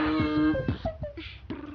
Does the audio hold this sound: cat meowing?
yes